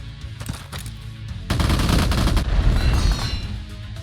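Rapid bursts of gunfire from the video game Empires Shall Fall: sparse shots at first, then a loud, dense fusillade of overlapping shots and booms that keeps up for the rest of the stretch.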